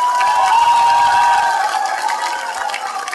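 Audience clapping and cheering at an outdoor political rally in Jaitaran, a dense, steady crowd wash that stays loud, then thins slightly toward the end.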